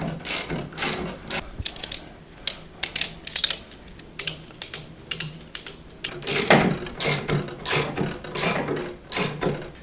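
A jack on a Harbor Freight motorcycle table lift ratchets in repeated clicking bursts, with short pauses between strokes, as the bike's front end is raised.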